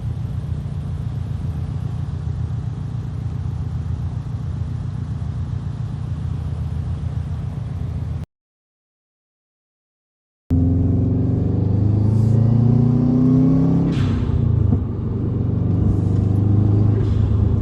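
A Subaru WRX engine rumbles steadily and loudly, cuts out for a couple of seconds, then returns with deeper revving and rising throttle.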